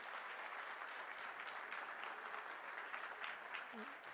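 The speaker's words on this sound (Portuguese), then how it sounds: "Vamos aplaudir então Maicon Fontana" Audience applause for an honoree at the inauguration of a cooperative's new headquarters, a soft, even patter of clapping heard from a distance, with a brief voice near the end.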